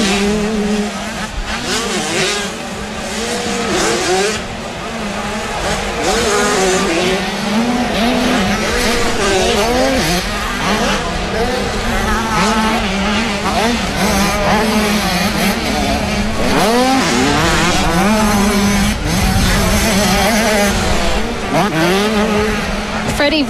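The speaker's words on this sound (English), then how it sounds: "Freddie really seems to be wrestling that small wheel 85 KTM round the track here to try and make some ground on Keith there." Motocross bikes race at Whitby, including a small-wheel 85cc KTM, their engines roaring loudly and continuously with revving pitch sweeps throughout, under a commentator's steady talk.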